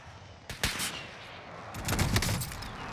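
Sniper rifle shots ring out during a Call of Duty Warzone solo match, a couple of sharp cracks near the start followed by a tighter burst of rapid reports, fairly close and loud.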